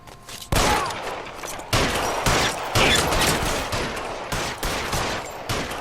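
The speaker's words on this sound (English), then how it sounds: "Oh, I shot you in the head, mate." Gunfire in L.A. Noire, with repeated loud shots and volleys going off across the whole stretch, some spaced apart and some in quick bursts, and no talking over them.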